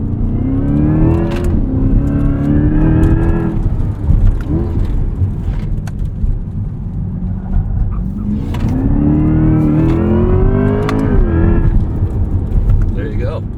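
A 2024 Corvette E-Ray under hard acceleration during performance driving, with a loud, close engine note that climbs through two long rising sweeps and drops back between them. Talk carries on over the engine.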